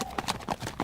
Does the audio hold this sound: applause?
no